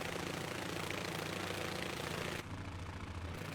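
Fokker F.VII trimotor's old air-cooled radial engines idling in Microsoft Flight Simulator 2020, a loud, steady low rumble with a throbbing, flapping pulse that drops slightly in level partway through.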